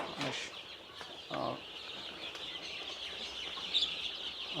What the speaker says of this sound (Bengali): এই দেখেন টাইগার মুরগির বাচ্চা